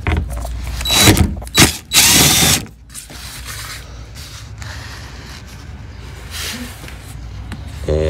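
A power tool spins a 10 mm socket to back out a front bumper bolt on a 2021–2022 Honda Ridgeline, giving three loud, close whirring bursts in the first few seconds, followed by quiet, low room noise with no talking.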